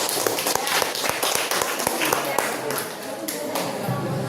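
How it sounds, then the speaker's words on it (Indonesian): Students in a junior high school classroom clap after a group presentation, a scattered, fairly close patter of hands with distinct individual claps and murmuring voices beneath. "Oke, tepuk tangan."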